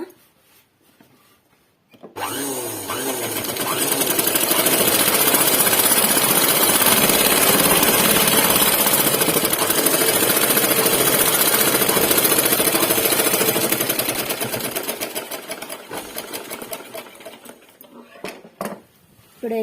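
Electric sewing machine running a long continuous stitch on a pleated skirt, a loud steady whirring rattle near the mic that starts abruptly, holds for over ten seconds, then slows and stops.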